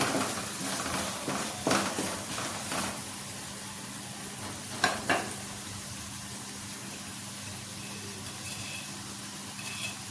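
Onions and tomatoes softening in a pan give a soft, steady sizzle with a few brief clinks of a spoon early on, close and low, with no voices.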